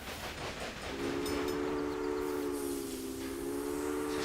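A simulated train in the Railway Empire video game sounds a sustained steady whistle over a rumbling rolling background, the whistle starting about a second in and holding to the end, with no talk.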